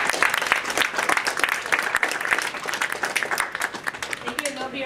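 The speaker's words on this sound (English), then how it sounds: "if we can give a round of applause for all the candidates making it through." An audience at a Senate at-large candidate debate claps for the candidates, the applause loud and sharp at first, then thinning into scattered claps as it fades.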